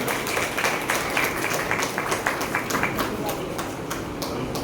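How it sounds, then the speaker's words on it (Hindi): Audience applause at a school Deekshārambh 2025 ceremony, many hands clapping in a dense, steady patter, with a speaking voice over the clapping. "जोरदार तालियों से स्वागत करें।"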